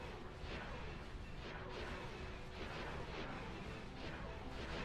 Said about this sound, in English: it's our TIE Furies using their torpedoes because they have 4 launchers